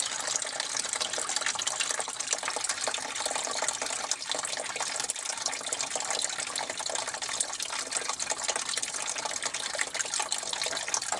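Steady, close rush of water spraying from a garden hose without pause for the whole stretch, broad and hissy, with no voices.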